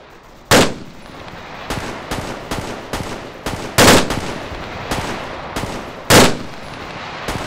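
Machine gun fire in Arma 3, with several sharp bursts that stand out loudly at irregular intervals over steady distant gunfire and battlefield noise.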